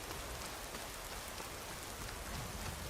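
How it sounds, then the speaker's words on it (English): Steady rainfall in the video game Skyrim SE, a dense continuous hiss of drops with no pauses or voices, even and unbroken throughout. "I can't believe how much it's raining in this playthrough."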